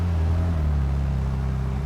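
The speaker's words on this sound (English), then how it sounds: "Let's hear a little rev." Loud, steady engine note from a car idling and lightly revving, close by, with a continuous low rumble and no talk.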